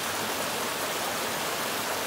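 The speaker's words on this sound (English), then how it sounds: "Just gotta love the sound of a waterfall flowing over the smooth rocks as it cascades on its way down." Water from a waterfall cascades over smooth rocks along a hiking trail near Arch Rock, a steady, close, fairly loud rushing wash with no break and no voices.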